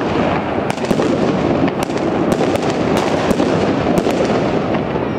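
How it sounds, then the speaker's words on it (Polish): New Year fireworks rockets launched over Stogi in Gdańsk crackle and pop continuously, with sharp bursts scattered over a dense roar of distant explosions, loud and without talk. "Ładne rakiety."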